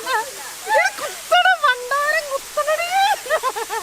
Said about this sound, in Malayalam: അടിപൊളി വെള്ളച്ചാട്ടം കേട്ടോ.